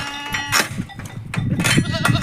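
Goats in desert pens in Kuwait bleat loudly and close, several overlapping calls in quick succession, with some rustling and movement between them.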